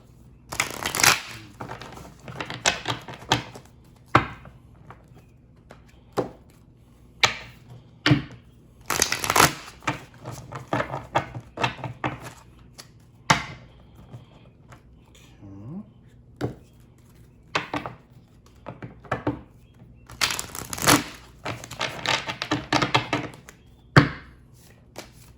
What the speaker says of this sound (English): I'm going to get these cards shuffled